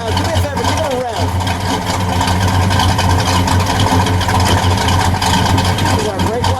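A 1971 Oldsmobile 442 convertible with a 455 V8 idles with a deep steady rumble and rises briefly in a rev, loud and close, while people talk over it.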